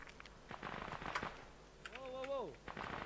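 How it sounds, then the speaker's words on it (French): Automatic gunfire from a mounted machine gun in a military video game, sharp bursts of shots mixed with other game sounds and explosions, with someone talking briefly over the action. "Mitrailleuse! Pourquoi y a personne sur la mitrailleuse?"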